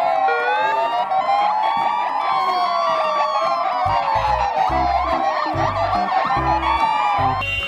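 Toy police car siren wailing loudly and continuously with rising and falling tones, accompanied by a thumping beat from the toy.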